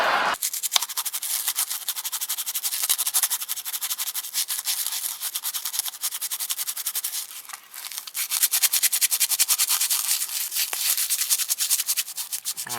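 Fine 600-grit sandpaper rubs steadily back and forth across a plastic Revell Cylon Raider model kit part, a close, continuous dry scratching that runs almost unbroken with one short dip partway through.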